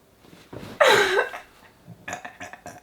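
A single loud, close burp rings out for about half a second, followed by quieter rustling and small clicks.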